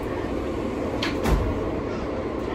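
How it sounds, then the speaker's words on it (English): Subway train doors slide shut with a brief thud and clunk partway through, over the constant loud rumble of the F train interior. "Clear of the closing doors, please."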